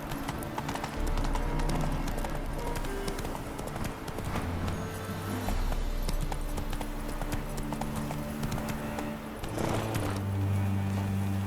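Roach the horse gallops in The Witcher 3, a steady, close clip-clop of hooves running through the whole stretch over low game music and ambience, with a faint snort possible near the end.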